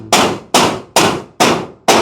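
Five sharp metallic hammer blows driving nails into corrugated zinc roofing ring out at a steady pace, each strike bright and clanging with a short decay, close and loud.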